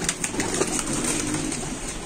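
Pigeons cooing and fluttering as they are let out of their coop in light rain, a dense, close wash of bird sounds with soft wing flaps throughout.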